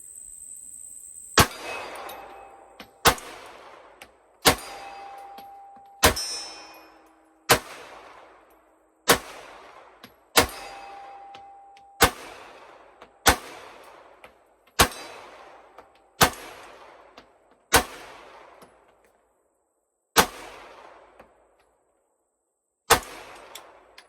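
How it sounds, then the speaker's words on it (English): A Glock 48 MOS pistol fires about a dozen evenly spaced, sharp shots at an outdoor range. Each crack is followed by a ringing clang from a steel target, and no one speaks. "And let's just shoot some steel."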